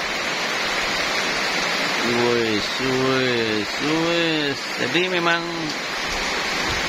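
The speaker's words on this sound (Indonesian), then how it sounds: "turun hujan deras sekali sampai sekarang." Heavy rain pours down in a steady, dense hiss while someone speaks over it in the foreground.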